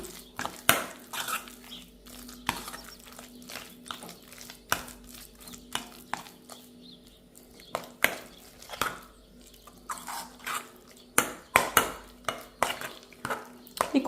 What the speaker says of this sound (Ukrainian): Ще кладу сметану. Перемішую